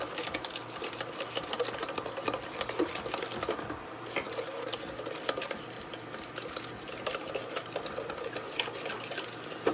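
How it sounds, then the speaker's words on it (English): Egg mixture for banana pudding being whisked in a pan: a quick, steady, rattling clatter of the whisk against metal, close and fairly quiet, keeping going without a pause. "So I'm whisking this first portion together."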